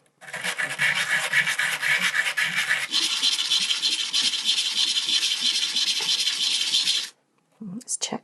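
Close, continuous rasping of sandpaper working the metal edge of a domed locket, changing pitch midway, then stopping before a brief final scrape.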